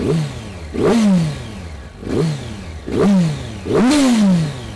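A 2007 Yamaha YZF1000 R1 motorcycle engine revs hard close by in three rising blips, each climbing sharply in pitch, holding briefly, then dropping back to idle between bursts.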